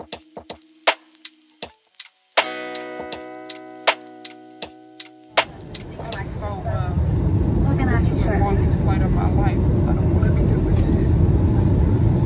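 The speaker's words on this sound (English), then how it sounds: "I've been on this plane for 5 hours. We're about to land." Airplane cabin in flight near the end of a five-hour trip before landing: a few sharp ticks and a tonal hum at first, then a steady, loud broadband roar that fills the rest.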